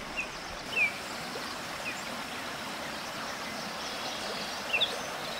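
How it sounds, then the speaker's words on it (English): A small stream trickles steadily beside a muddy riverside trail, a soft continuous wash with a few faint bird chirps over it. "But look at this little trickle."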